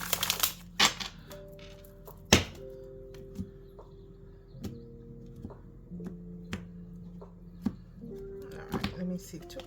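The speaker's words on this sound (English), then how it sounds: "One more shuffle." Tarot cards are shuffled and tapped in short, scattered bursts of sharp clicks and slaps, with soft pauses between them.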